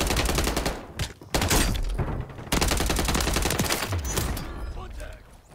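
Heavy gunfire in Warzone 3 on Rebirth Island, dense bursts of automatic shots crashing in from several directions almost nonstop, loud and close, with only brief breaks.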